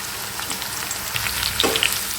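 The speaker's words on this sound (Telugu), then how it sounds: "మంచి గోల్డెన్ బ్రౌన్ కలర్ వచ్చే వరకు వేయించుకోవాలి." Bitter gourd fries in a pan, giving a continuous close sizzle with faint crackles and a few soft stirring scrapes, with no voices.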